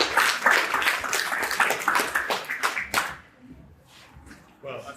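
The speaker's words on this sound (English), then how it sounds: "Big round of applause." Applause from an audience for the mayor at a graduation ceremony, dense clapping for about three seconds that then thins out and fades, with a brief burst of noise returning at the very end.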